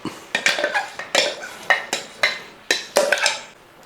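A utensil scrapes ground rice batter, like dosa batter, into a vessel for a Kerala-style breakfast, giving about eight sharp metallic clinks and scrapes in a quick uneven rhythm, close and fairly loud with no talking.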